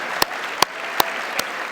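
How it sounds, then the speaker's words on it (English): At a social work conference plenary, a few sharp, isolated claps ring out at an even, slow pace, five distinct hits rather than a full crowd ovation. "And I think you're supposed to applaud now."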